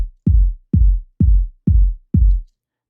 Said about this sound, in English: So it's just a kick on its own.